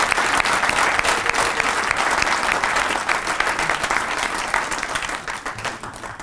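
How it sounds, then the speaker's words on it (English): A ceremony audience gives a sustained round of applause at a professorial inauguration, thick continuous clapping from many people that tapers gently near the end. "Ladies and gentlemen, a round of applause."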